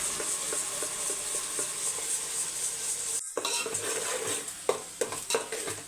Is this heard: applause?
no